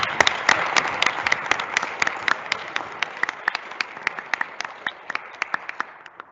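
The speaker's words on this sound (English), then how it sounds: "Who's been one more round of applause?" Applause rings out through a large high school gymnasium at an open house evening, a steady patter of many hands with sharp individual claps standing out, gradually thinning toward the end.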